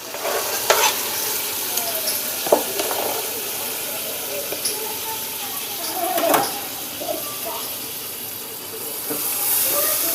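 Tomatoes stirred into a sizzling pan of stuffed brinjal masala for bharli vangi, with soft scraping strokes and occasional louder spoon knocks over a constant frying hiss, a voice speaking now and then.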